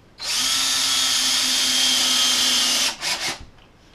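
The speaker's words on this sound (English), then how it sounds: "Gotta get another screw in the opposite corner." A power drill drives screws while a Fan-Tastic Fan vent is mounted to an RV ceiling. There is a loud, steady motor whine for almost three seconds, then two short bursts as the screw seats, and then quiet.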